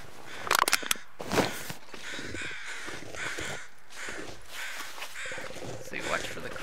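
Crows caw in a snowy wilderness in the survival game The Long Dark, several harsh calls near the start and more later over a steady wind-like ambience, with footsteps and faint movement sounds in between.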